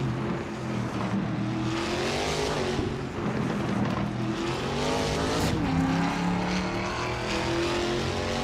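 Race cars, led by a 2021 Ford Mustang, roar off the start at Autodromo Riccardo Paletti in a video game, a loud, sustained chorus of engines rising and shifting in pitch, with a brief tire squeal.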